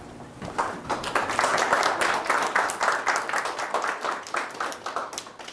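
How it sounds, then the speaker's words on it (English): A crowd applauds with dense, steady clapping that holds for several seconds at a moderate level, no voices over it. "It's the first time I ever got an applause."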